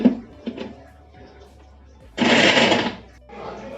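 A mixer grinder gives a short pulse on turmeric-washed chicken for momo filling, a loud close whirring burst of under a second and a later fainter burst. Brief speech and kitchen clatter come before it.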